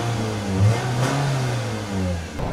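An LPG-powered car engine runs and revs, a steady mid-pitched engine drone that swells briefly and holds close and loud throughout, with no voices.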